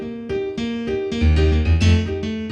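Piano plays a Latin salsa rhythm over a straight, even pulse, syncopated chords above a driving bass line, close and loud with no voices.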